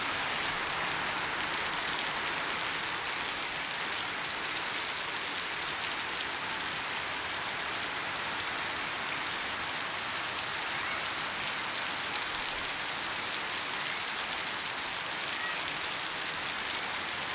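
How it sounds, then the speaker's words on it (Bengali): Heavy rain falls on a remote village, a dense, even hiss of drops on surfaces that stays steady and loud for the whole stretch, with no voices. "জোরে বৃষ্টি নামছে গো।"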